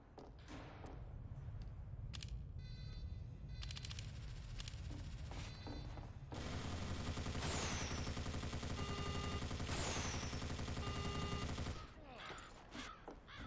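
Engineer's sentry gun in Team Fortress 2 Mann vs. Machine firing bullets and rockets, a dense rapid machine-gun rattle with whooshing rocket launches, loud and continuous through the middle with sporadic shots around it.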